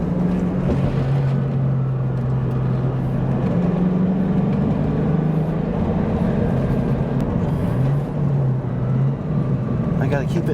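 An old modified Ford Mustang drives downhill on winding roads, its engine droning steadily with shifting pitch and road rumble while someone talks throughout.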